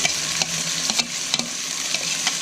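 Nasi goreng stirred and frying in oil over moderate medium heat, giving a bright continuous sizzle broken by quick scraping stirs and small clatters, close and alone.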